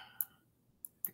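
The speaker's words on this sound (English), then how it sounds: "I'm having trouble double clicking on that today" A computer mouse clicks three times during graph plotting software work, sharp faint ticks, two spaced about half a second apart, then one more shortly after, with quiet room tone between.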